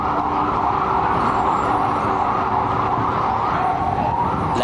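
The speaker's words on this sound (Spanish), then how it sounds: "una ambulancia también usa el carril exclusivo y en un momento cambia al del sentido contrario" An ambulance siren wails through busy city traffic on a dedicated lane, a loud, continuous tone over a dense rumble of engines and road noise.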